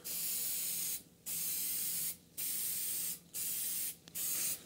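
A spray paint can lays light coats on a guitar amp in four separate hissing bursts of about a second each, split by short pauses, close and steady, with no voices.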